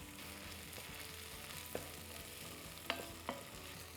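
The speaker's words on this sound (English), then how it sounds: "At this stage, when the onions are like this, I'm going to add some cashew nuts." Cashew nuts frying in a pan with browned onions for palak paneer: a soft, steady sizzle continues throughout, with a few sharp spoon clinks and scrapes near the end.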